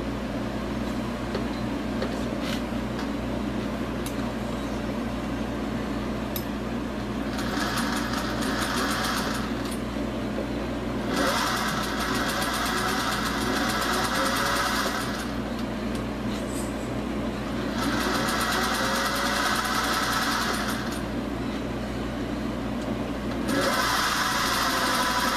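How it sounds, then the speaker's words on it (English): A sewing machine runs in several bursts of rapid stitching, separated by short pauses, over a steady low background hum. "I love this sewing machine."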